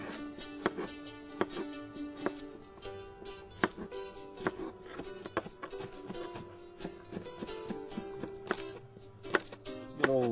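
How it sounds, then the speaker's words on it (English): A knife chops through part of an onion on a cutting board in a home kitchen, sharp irregular taps scattered over about ten seconds with no talking. "Chop up an onion, part of an onion."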